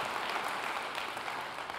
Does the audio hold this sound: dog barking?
no